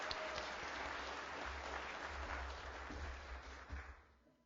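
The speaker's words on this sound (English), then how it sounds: "So a big round of applause for her." Audience applause at a Latino book awards ceremony, broad continuous clapping from a crowd that holds steady and then tapers off near the end.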